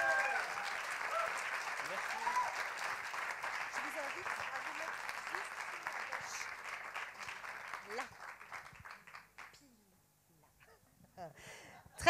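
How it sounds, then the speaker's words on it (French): Audience applause at a science communication contest, a sustained burst of clapping from a crowd that fades out near the end, then resumes briefly and more faintly. "Des applaudissements pour Xavier Simon"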